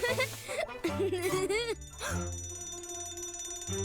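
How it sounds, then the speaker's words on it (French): A cartoon fire alarm rings in a bright, rapid repeating electronic tone after a moment of animated voices and music, steady and close throughout the latter part. "Oh oh, l'alarme incendie."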